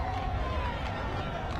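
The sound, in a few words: football crowd cheering wildly at a match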